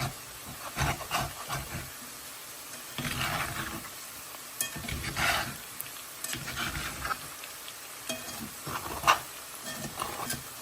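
Seasoned food being stirred in an oiled frying pan, with steady sizzling and repeated scraping, clattering strokes of the utensil, fairly close.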